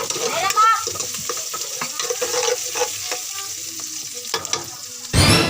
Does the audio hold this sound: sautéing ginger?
yes